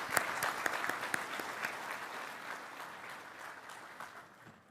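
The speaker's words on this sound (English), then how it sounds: "So a round of applause for you." Audience applause for the troops at the Land Forces Pacific conference in Honolulu, a dense burst of clapping that starts strong and gradually fades over several seconds, with no talk.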